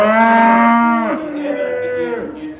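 Two purebred heavy domestic cattle in the 458 to 500 kg class low loudly at a show, one long sustained moo followed by a second, shorter, falling call, close and clear with no talk over them.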